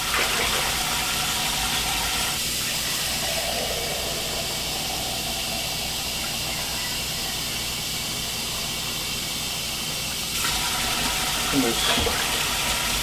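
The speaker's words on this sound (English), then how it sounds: "7 quarts of water there." Water runs steadily into a large soup pot for navy bean and ham soup, a continuous close hiss and rush that changes tone partway through, with a brief clink near the end.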